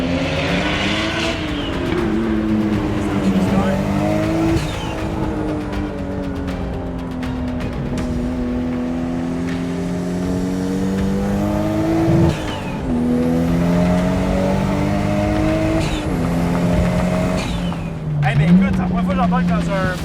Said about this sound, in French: C'est un 2JZ, tu m'as dit? Oui. Les turbos ont été changés.